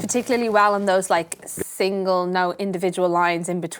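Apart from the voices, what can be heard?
None of the usual background noises is heard.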